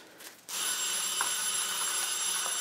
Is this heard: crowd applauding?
no